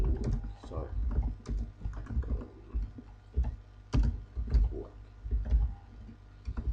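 Someone types on a computer keyboard while coding HTML: irregular clusters of close, crisp key clicks with short pauses between bursts.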